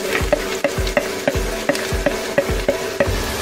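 Onions sizzle in a hot pan while a utensil stirs them in regular scraping strokes, about ten times in quick succession.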